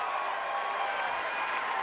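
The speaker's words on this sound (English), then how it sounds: "Might have been a premature cheer" At a Rio 2016 Paralympic wheelchair tennis men's doubles gold final between Great Britain and France, a crowd breaks into a short, steady burst of applause and cheering, a broad wash of clapping filling the arena.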